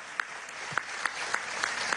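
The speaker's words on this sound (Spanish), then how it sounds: "Excelente, un aplauso." Audience applause at an outdoor public event at a productive unit in Aragua, Venezuela, a steady wash of many hands clapping at a distance with a few sharper individual claps standing out.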